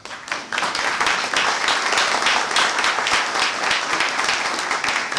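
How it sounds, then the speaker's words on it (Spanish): An audience applauds loudly at a formal event in Pueblo Libre, a dense, steady wash of clapping from many hands that starts abruptly and holds for several seconds. "el doctor Estefan Haas del Carpio, a quien solicitamos fuertes aplausos."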